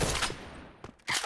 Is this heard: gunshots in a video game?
yes